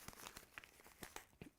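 Scissors cutting through appliqué fabric, the material turned rather than the blades; a series of soft, close crisp snips and crinkles at an irregular rhythm, quiet and alone.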